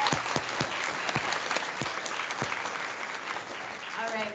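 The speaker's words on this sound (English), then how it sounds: "Give yourselves a round of applause." A crowd of parents and students at a 5th grade ceremony gives a continuous round of applause, dense even clapping filling the room from start to finish, with a brief voice at the very end.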